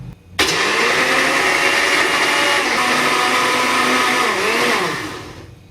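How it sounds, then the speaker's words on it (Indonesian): An electric blender whirs loudly and steadily as it purées eggplant, switching on abruptly and running for about five seconds before winding down, with no talking. "Sekarang ini akan kita blender."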